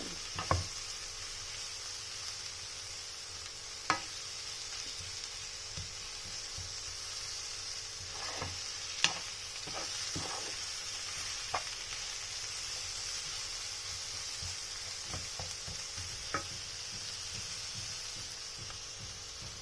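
Steady sizzling of tomatoes stir-frying in a hot pan, with occasional clicks and knocks of a utensil against the pan, no voices.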